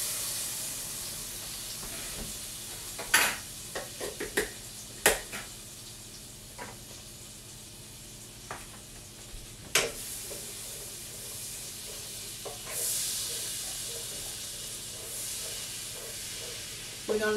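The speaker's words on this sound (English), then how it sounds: "in here I have my butter, and I'm gonna put a 1/4 of garlic" Minced garlic sizzles gently in melted butter, with a steady low hiss broken by a few sharp clicks and taps of a utensil against the pan, close by.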